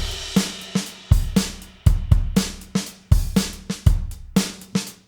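A Logic Pro X Drummer beat of kick, snare and lightly swung hi-hats plays alone, the punchy hits looping in a steady groove.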